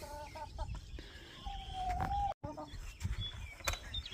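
Chickens cluck and squawk nearby in short bursts, with one drawn-out creaky call and a few faint background noises.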